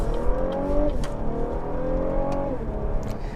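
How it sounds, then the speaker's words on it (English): A 2016 Cadillac CT6 engine revs up twice from inside the cabin, each rise a droning, minivan-like V6 tone that climbs in pitch and then drops off, loud over a steady road rumble, with no talk. "And the engine noise is not good. It sounds a lot like a V6 in a Toyota minivan."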